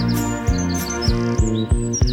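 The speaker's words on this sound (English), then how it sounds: "All the birds are singing" Birds chirp and tweet in a bright repeated pattern at a calm start of day in a country village, with steady rhythmic notes over a sustained musical background.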